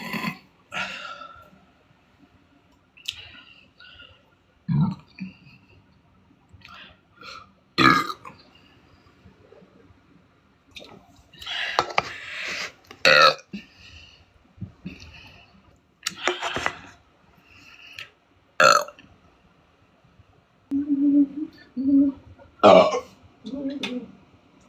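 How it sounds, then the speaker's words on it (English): A woman lets out a series of loud, close burps at irregular intervals, some short and abrupt, others drawn out and throaty, mixed with clicks, throat sounds and bits of speech. "Burp on command for roses."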